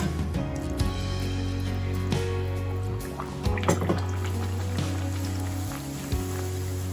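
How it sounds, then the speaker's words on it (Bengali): Thick stuffed kachori deep-frying in hot oil, a steady close bubbling and sizzling with scattered pops and drips, continuous with no voices. "সবজির থেকে কচুরিটা একটু সময় নিয়ে ভাজতে হয়"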